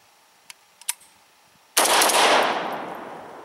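An SGL21-94 AK rifle fires 7.62x39 rounds, a loud blast cutting in sharply after a few faint ticks and handling clicks, then ringing and decaying outdoors.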